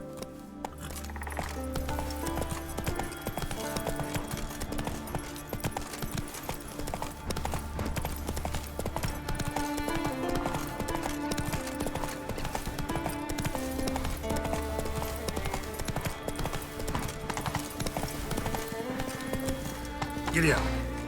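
Roach, Geralt's horse in The Witcher 3, gallops in a steady clip-clop rhythm of hooves under a constant orchestral score, with a brief whinny and faint jingling of tack.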